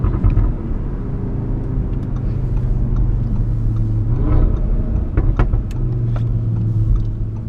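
An Audi RS3 tuned to 470 wheel horsepower heard from onboard, its engine droning steadily as it rises and falls in pitch through the revs, with a louder surge partway through and no talk.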